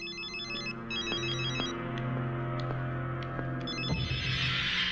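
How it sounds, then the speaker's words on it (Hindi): An electronic phone ringtone trills in repeated bursts with a steady low hum beneath, ending with a brief rustle. "रिंग बजी तो थी"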